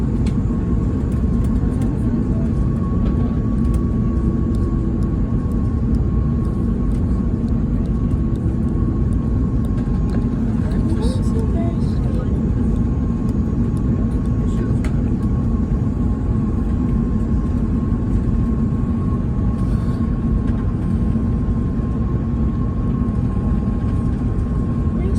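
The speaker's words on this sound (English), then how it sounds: "we're landing on the left runway" Cabin of a Hawaiian Airlines Airbus A330 on landing approach, a loud, steady low roar of engines and airflow with a faint constant whine, continuous throughout, with occasional muffled voices.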